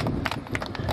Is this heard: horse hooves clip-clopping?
yes